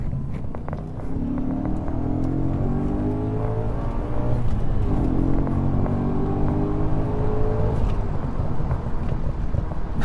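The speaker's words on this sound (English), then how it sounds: "That is an amazing scream coming from this wonderful, wonderful engine." A 2007 Audi RS4 with over 140,000 miles accelerates hard up a freeway on-ramp, its engine rising in pitch through the gears with a short dip at a shift, then screaming higher again, loud and close from inside the car.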